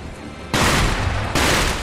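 Explosions in the video game Sekiro: Shadows Die Twice: two loud, sudden booming blasts about 0.8 seconds apart, each with a harsh rumbling tail, over a noisy rumble.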